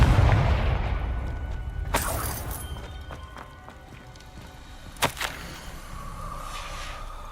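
A Confringo fire spell in Hogwarts Legacy lands with a low rumbling boom that fades into a roaring wash, followed by a sharp crack about three seconds later.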